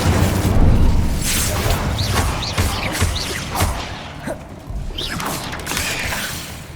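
Incendio fire spell from Hogwarts Legacy, heard as loud whooshing flame bursts and impacts mixed with clanking combat sounds, several hits in quick succession over a busy game soundscape.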